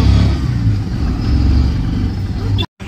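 An auto-rickshaw engine rumbles steadily and close by, a low throbbing idle that runs for nearly three seconds before cutting off abruptly, with voices around it.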